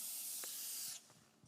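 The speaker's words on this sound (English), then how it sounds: "That gives air into our mask so we can breathe, so we're not breathing in smoke." Compressed air from a firefighter's breathing apparatus hisses steadily into the mask for about a second, close and fairly loud, then cuts off, followed by faint clicks and small mechanical sounds.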